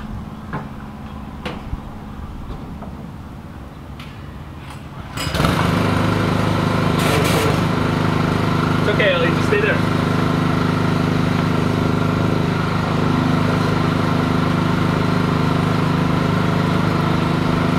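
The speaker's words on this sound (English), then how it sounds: "let's rinse it off and go from there" A pressure washer starts up around five seconds in and rinses a car wheel with a loud, steady motor drone and spray hiss that holds to the end, with only faint background before it starts.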